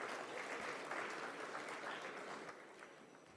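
An audience applauds steadily at a Constitution Day celebration event, a dense, sustained clapping that stays loud throughout and eases slightly near the end, with no voices over it.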